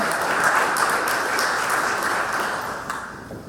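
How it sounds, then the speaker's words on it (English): Audience applause at a Villanova University sports-league panel, a broad, steady wash of clapping that continues evenly and thins slightly toward the end, with no speech over it. "Round of applause."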